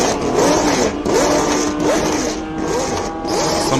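A 1974 Tyrrell 007 racing car, the Formula One car Jody Scheckter raced, revs its engine at a hillclimb event, the loud whine rising and falling in repeated sweeps with steady crowd noise underneath.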